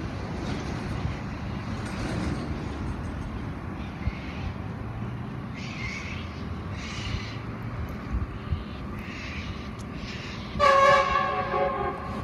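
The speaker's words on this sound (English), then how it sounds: "Freight train coming." A freight train rumbles steadily past at a distance, its low roar constant, with a brief horn sounding near the end.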